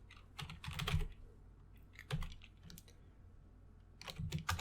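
Typing on a computer keyboard, with quiet, close key clicks in three short bursts of rapid strokes separated by brief pauses, no voice over them.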